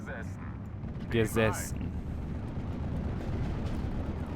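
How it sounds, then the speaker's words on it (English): A vehicle's fuel load explodes in the World War II strategy game Steel Division: Normandy, a couple of sharp bursts followed by a sustained rumbling roar; brief voice chatter from the game comes in alongside. "Fuel explosion."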